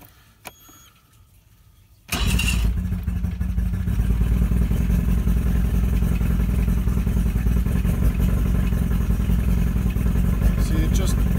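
A Mercury 40 hp two-stroke carbureted outboard boat engine restarting: after a quiet moment with a click, it catches abruptly and settles into a loud, steady, buzzy idle close to the microphone.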